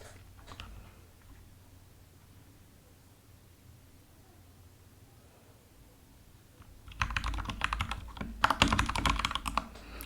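Typing on a computer keyboard in a quiet room, a burst of fast, close, clicky keystrokes starting after a long near-silent stretch and continuing in uneven flurries to the end.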